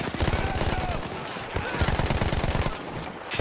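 Rapid machine gun fire in the World War I shooter Battlefield 1, loud sustained bursts of rattling shots close up, briefly pausing then resuming.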